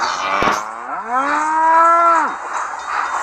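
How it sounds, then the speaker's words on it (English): A cow on railway tracks lets out one long, loud, close moo that swells and then drops off, alone against a faint background. "They were too busy mooing and chewing."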